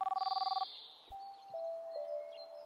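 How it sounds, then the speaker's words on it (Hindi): A mobile phone ringtone sounds in a Hindi horror story podcast: a fast pulsing electronic ring for about half a second, then clearer sustained tones that linger at moderate volume. "उसे भारती के मोबाइल की रिंग बजने की आवाज साफ सुनाई दे रही थी"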